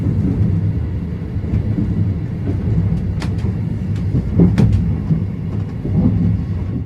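The Venice Simplon Orient Express train rolls along with a continuous heavy rumble, and scattered metallic clicks and clacks of the wheels over the rails come through near the end.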